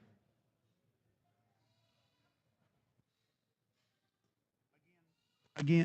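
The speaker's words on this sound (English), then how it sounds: "the black-headed Shabuzi son from Sanders Show Goats" A black-headed show goat at a livestock auction lets out a short, loud bleat near the end, after several quiet seconds with only faint, distant background sounds.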